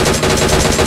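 Shotgun fire in a video game match, a dense, loud burst of gunfire with rapid repeated blasts filling a very short moment.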